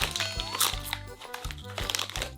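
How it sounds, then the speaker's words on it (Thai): A crunchy snack is chewed close up in repeated crisp crunches and crinkles, a brief steady run of bites with no talking. "นั่งกินแบบกรุบกริบ"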